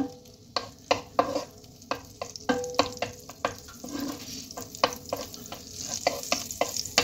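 A spoonful of butter melts in a pan with a soft sizzle. A utensil taps and scrapes the pan in a quick, irregular rhythm, all close and fairly quiet.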